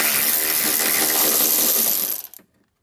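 A 10mm bolt on a Hyundai Elantra fender is spun out with a ratchet, giving a fast, continuous metallic clicking whir close up that runs about two seconds, then tapers into a few final clicks and stops.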